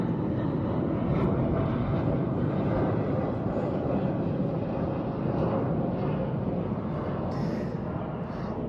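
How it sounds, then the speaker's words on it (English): A steady, broad roar of an airplane passing overhead fills the whole stretch, sustained and moderately loud outdoors with no clear talk over it. "There's a plane going overhead."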